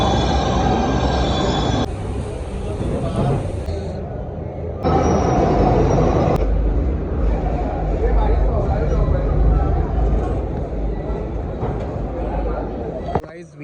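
A Delhi metro train at Supreme Court metro station, a loud sustained rumble of rail cars with shifting broadband noise and abrupt changes in tone, continuous and close throughout.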